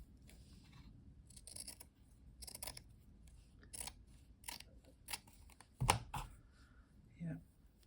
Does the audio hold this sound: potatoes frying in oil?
no